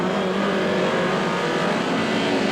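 A 1990 British Touring Car Championship saloon car pulls out of the pits at Donington Park, its engine a loud, steady, close drone that holds throughout with no talk over it.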